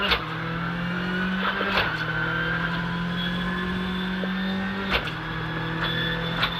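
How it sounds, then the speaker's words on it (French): A rally car works through a wet, muddy gravel stage during the 2022 Rallye Vosges shakedown, its engine droning steadily near the listener with abrupt pitch drops around two shifts or a handbrake moment, and no voices. "Le petit frein à main."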